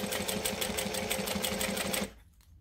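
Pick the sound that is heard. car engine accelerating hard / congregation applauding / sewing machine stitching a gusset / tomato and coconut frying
sewing machine stitching a gusset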